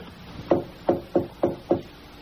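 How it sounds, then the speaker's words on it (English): Five soft, evenly spaced knocks on a door at night in a radio drama, close and muffled, with no voices. "a soft tapping on Rachel Howell's door in the dead of night"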